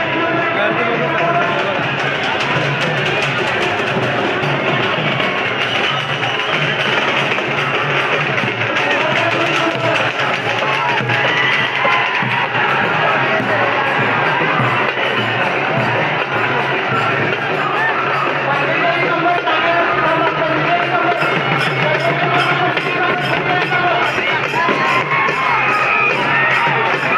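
A dense crowd at the Jotiba temple fair makes a steady, loud murmur of many voices, with shouts, whoops and bustling movement throughout and a person talking close by.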